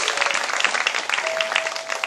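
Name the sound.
audience applause for a greeting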